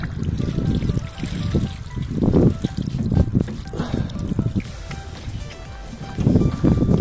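Water poured over the windscreen of a VW T4 van splashes and trickles down the glass in uneven bursts, fairly close, with a muffled voice faintly underneath.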